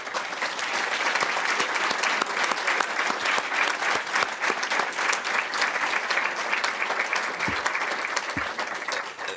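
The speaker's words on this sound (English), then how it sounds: "give them a round of applause" A banquet audience applauds the women's volleyball team at a student leadership awards event, dense clapping continuing steadily for several seconds at moderate volume, with no talk over it.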